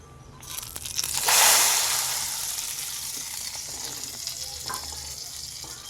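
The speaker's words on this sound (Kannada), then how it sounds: "ಈಗ ಇದಕ್ಕೆ ನಾನೇನು ತಡ್ಕ ಮಾಡ್ಕೊಂಡಿದ್ದೀನಲ್ಲ ಅದನ್ನು ಹಾಕೋತಾ ಇದ್ದೀನಿ" Hot tadka tempering poured into Hyderabadi mixed dal sets off a loud, sudden sizzle that flares up within a second, then settles into a softer, crackling fry that slowly fades.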